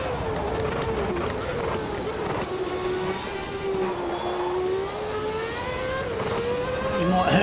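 Race car engine in the Automobilista 2 racing game, a loud continuous engine drone whose pitch dips and climbs through downshifts, steady throughout with a brief rise at the end.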